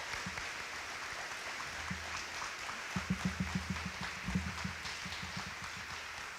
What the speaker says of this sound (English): Please join me in a big round of applause honoring her work.